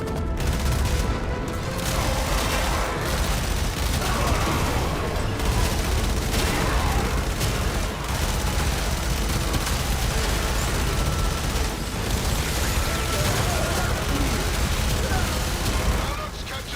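A captured Macros cannon fires nonstop in the Warframe video game, a dense, loud barrage of booming shots with voices heard through it.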